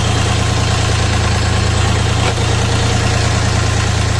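A cold Dongfeng 244DHX mini tractor diesel engine idling close by, a loud, even, rhythmic low rumble with steady vibration throughout and no voices.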